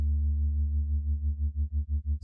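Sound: synthesizer sine wave modulation

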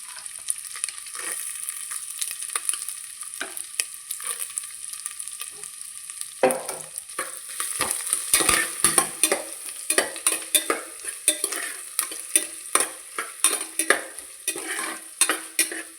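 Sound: coconut pieces frying in coconut oil

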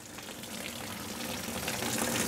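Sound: water draining out of a blown Porsche Boxster engine

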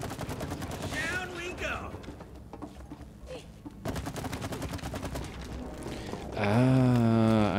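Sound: gunfire shooting in the video game It Takes Two

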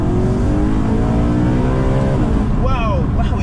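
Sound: sports car engine revving in manual mode

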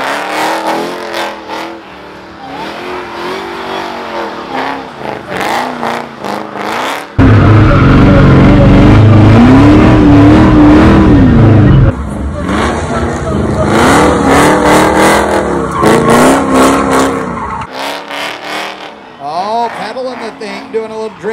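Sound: Hellcat-swapped Dodge Dakota revving and drifting

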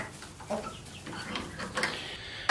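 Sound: hens clucking in a chicken house

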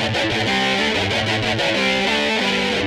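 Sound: slowed-down guitar riff from a song

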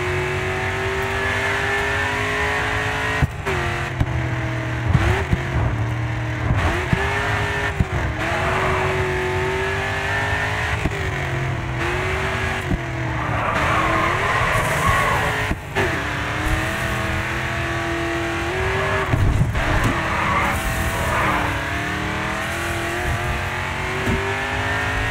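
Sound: racing car drifting in video game GRID

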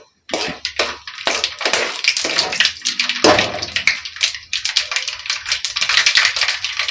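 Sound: mustard seeds crackling in hot peanut oil

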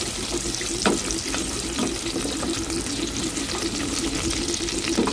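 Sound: ginger, garlic and spring onion stir-frying over low heat

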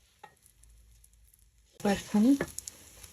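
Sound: pulao rice frying and sizzling in a pan

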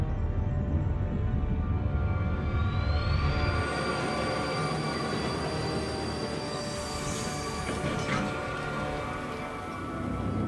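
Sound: train braking in a video game

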